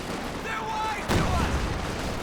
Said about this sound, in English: Barrage coming through again